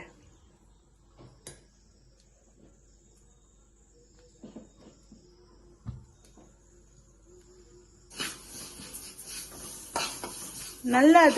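Sesame seeds are dry roasted in a pan for ellu urundai. Soft stirring and light clinks come first, then a dense, close crackling and popping fills the last few seconds, with a brief bit of talk.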